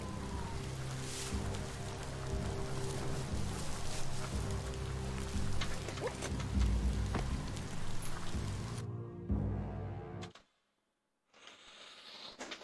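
Rain falls in the video game Biomutant, a dense steady hiss with low rumble that cuts out suddenly near the end, then faintly returns.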